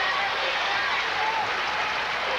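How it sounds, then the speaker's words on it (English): Steady, dense crowd cheering and applause filling a gym at a 1999 Illinois high school girls basketball semifinal, Nokomis fans roaring continuously from close behind, with commentary voices mixed in. "the cheering now erupts from behind us where the Nokomis fans are"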